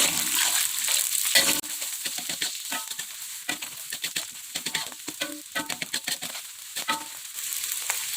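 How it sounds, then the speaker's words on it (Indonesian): Chopped red chilies and bird's eye chilies are stirred in a sizzling pan, with a spatula scraping in an irregular rhythm over a steady frying hiss, close and fairly loud. "Kita aduk."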